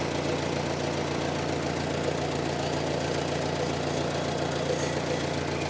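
A 1954 Ford NAA tractor engine idles with a steady low rumble and even, continuous chug throughout, close by, with no talk over it.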